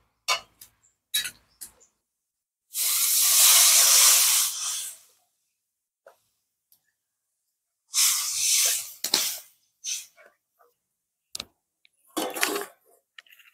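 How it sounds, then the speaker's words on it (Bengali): Water poured into a hot pan of potatoes fried with spices hisses in a loud broadband sizzle lasting about two seconds, followed by two more bursts of sizzling and scattered crackles and ticks in between, with no talk. "এবার আমি পরিমাণ মতন জল দিয়ে দেবো।"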